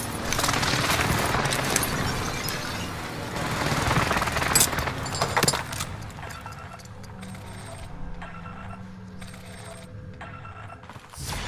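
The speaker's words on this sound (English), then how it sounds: "Enemy precision airstrike." A precision airstrike in Call of Duty Warzone, heard as a dense run of loud blasts and crackling impacts over the first half, dropping to scattered metallic clinks and softer mechanical rattles afterward, with no talking.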